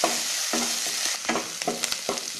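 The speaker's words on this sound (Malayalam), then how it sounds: "കറിവേപ്പില, തൊണ്ടൻ മുളക്, പച്ചമുളക്, ഇഞ്ചി ചതച്ചത്, വെളുത്തുള്ളി ചതച്ചത് എന്നിവയിട്ട് 2 മിനിറ്റ് നന്നായിട്ട് വഴറ്റണം" Curry leaves, shallots, green chillies and crushed ginger and garlic sauté in hot oil for a prawn and green pea curry, a loud steady sizzle broken by regular scraping stirs of a spoon against the pan.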